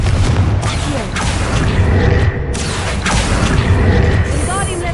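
A Confringo blasting spell detonates in Hogwarts Legacy, a loud booming explosion with rumbling, crashing debris that fills the whole five seconds, layered with further blasts and a brief whoosh near the end.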